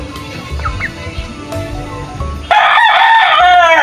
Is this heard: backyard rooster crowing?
yes